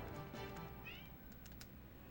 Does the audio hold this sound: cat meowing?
yes